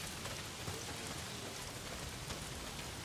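Steady heavy rain pours down in the open-world zombie game Days Gone, a dense continuous hiss of drops on surfaces with no pauses, loud and close throughout.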